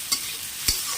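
Onions and tomatoes sizzle softly in a pan during village-style chicken cooking, with two quick scraping strokes of a spoon stirring them close by.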